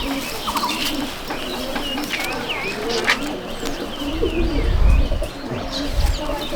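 Domestic pigeons in a loft in Malda district keep up continuous layered cooing with a few chirps, while a person talks briefly and a low rumble swells near the end.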